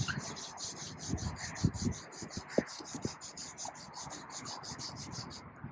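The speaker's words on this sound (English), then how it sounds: "The paint sounds really rough, and that is because there are embedded contaminants in the paint." A hand rubs back and forth over rough car paint carrying embedded contaminants, producing a close, dry, raspy scraping in repeated uneven strokes with faint knocks, fairly quiet.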